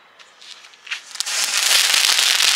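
A Diwali sky-shot firecracker is lit, giving a few sharp pops before bursting into a loud, dense, continuous crackle that lasts to the end.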